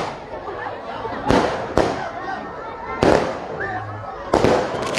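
A string of firecrackers pops in four loud crackling bursts at a street Burning of the Devil celebration in Chiquimula, with crowd noise and chatter filling the gaps between them.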